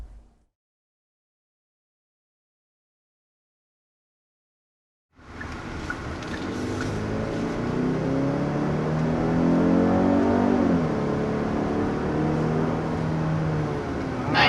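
A 2023 Genesis GV80 accelerates hard to 60 mph after a stop, the engine rising in pitch through gear changes and settling into a sustained loud drone with road and wind noise.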